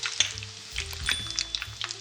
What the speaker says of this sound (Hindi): हल्की आंच पे आपने इसको तलना है